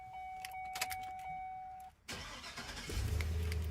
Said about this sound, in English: now we'll turn the car on